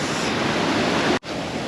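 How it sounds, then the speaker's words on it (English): A mountain river on a rainy day rushes in a steady, loud broadband roar of flowing water. The roar is close and continuous, with one brief dropout near the end before it resumes. "There's a river here"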